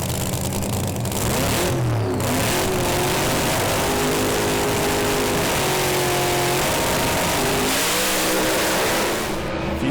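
Top Doorslammer drag racing cars at Calder Park Raceway roar continuously and loudly, engines revving and rising in pitch through a sustained launch and pass.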